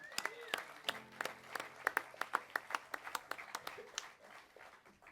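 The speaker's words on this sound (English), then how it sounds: "give him a big round of applause." Audience applause at a live U.S. Coast Guard Dixieland jazz band lunchtime show, a scattering of distinct, fairly sparse claps rising and thinning over about five seconds, moderately quiet with no talk over it.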